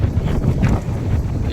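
Strong wind buffeting the microphone at an outdoor loading point, a continuous low roaring rumble with gusty swells and no talking over it.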